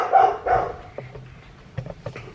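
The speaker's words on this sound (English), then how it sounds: "the neighbor's dog is barking" A neighbor's dog barks nearby, two muffled woofs followed by a few fainter yips and whimpers trailing off, with no one speaking.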